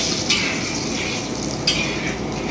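Dried red chillies sizzle steadily in hot oil in a home kitchen, a constant bright frying hiss with two faint clinks of a utensil. No voice is heard.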